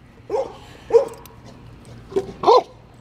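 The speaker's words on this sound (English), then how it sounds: "He likes barking into the bowl because it echoes." A pit bull gives four short barks into a metal bowl with a hollow, ringing echo, spaced unevenly over a few seconds, close by with no talking.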